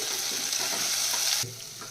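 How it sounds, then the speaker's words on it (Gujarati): Coriander, cumin and turmeric sizzle in hot oil with a bright, steady hiss that abruptly quiets near the end. "ધાણા જીરું અને હવે આ હળદર ને બરાબર સાંતળી"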